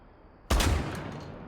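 A Super 90 shotgun fired from the hip in Rainbow Six Siege, one loud close blast that hits suddenly and then trails off in a booming decay.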